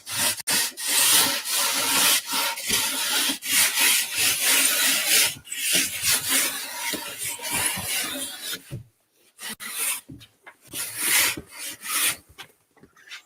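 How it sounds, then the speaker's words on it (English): A rasp is worked along the edge of a drywall sheet in quick, rough back-and-forth strokes, loud and close, stopping briefly near the end before a few final scraping strokes. "Let's rasp this up a little bit."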